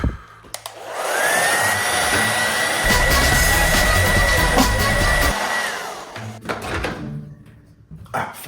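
A handheld hair dryer blows steadily on a steak for about five seconds, a loud, close whooshing roar with a faint whine, preceded and followed by handling clunks.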